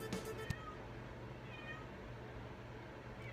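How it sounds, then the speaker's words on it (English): A faint, distant cat meow rises briefly over a quiet room hiss, with a couple of soft clicks near the start. "my cat's meowing right now"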